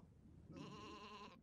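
Sheep in the video game Isle of Ewe gives a single short, wavering bleat of about a second, clear over a faint background.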